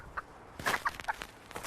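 Chickens and a rooster in a henhouse, with a few short clucks and scuffling sounds in quick bursts at close range over quiet background.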